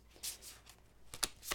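Tarot cards are shuffled close by in a few brisk, papery riffles and slides, soft with sharper bursts near the end, with no talk.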